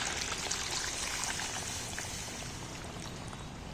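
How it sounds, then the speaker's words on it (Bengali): Warm water poured along the side of a pot of chicken curry makes a steady, close hiss and splash that runs without a break, with a slight easing toward the end. "এইবার আমি হালকা করে একটু হাত ছোঁয়া গরম জল একটু সাইড দিয়ে দিয়ে দেবো"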